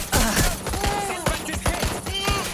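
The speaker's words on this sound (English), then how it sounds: "Need some cover! They're shooting!" Rapid automatic gunfire rattles in quick, close bursts during a firefight in the video game Watch Dogs Legion. The shots come loud and clustered, with short gaps between volleys.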